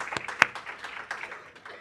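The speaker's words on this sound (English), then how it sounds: "I think all of us here would deserve a round of applause." A short spatter of audience clapping at a research day gathering: a few distinct, sharp claps, then scattered lighter ones that fade quickly.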